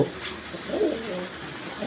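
Soft, low cooing of a breeder pigeon, a brief murmuring call in the middle of a quiet, slightly noisy room.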